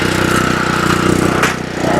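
A mower runs on a putting green cut to 1.7 mm, a steady loud engine drone with a rapid fine rhythmic clatter from the cutting reel, close by, dipping briefly before recovering.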